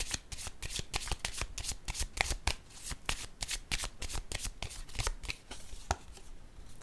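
Tarot cards being shuffled in a steady, rapid run of crisp riffling slaps, close and continuous, with no talk over them.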